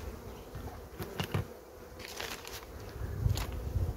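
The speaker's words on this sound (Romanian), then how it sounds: "O îndepărtăm pe albinuța." Honey bees from a colony with a red queen buzz around an open hive during inspection, a steady droning hum with louder passes of individual bees close by and light handling rustles.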